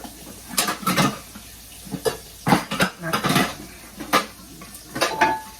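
A big metal cooking pot and utensils clanking and scraping in a series of close, irregular knocks, with brief pauses between handling sounds, while boiling tomatoes in a kitchen.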